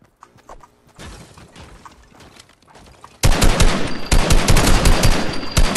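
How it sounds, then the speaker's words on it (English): Gunfire in an online shooter match, first sparse scattered shots and then a sudden loud burst of rapid automatic fire that keeps going, with no talk over it. "Oh, he's getting shot at."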